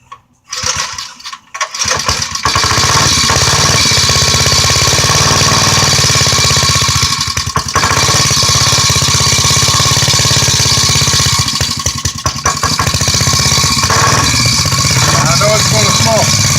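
An antique David Bradley cultivator motor, unused for years, sputters to life after a short pull and then runs loud and close with a harsh, rapid, steady chatter throughout.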